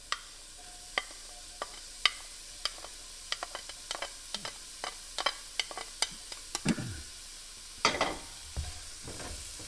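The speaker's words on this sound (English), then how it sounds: "we're gonna stir, and we're gonna fry this onion until it's translucent" Chopped medium white onion fries in a tablespoon of oil in a pan for a Mexican almond sauce, with a soft steady sizzle under repeated sharp scrapes and clacks of a spoon stirring, sometimes in quick bursts.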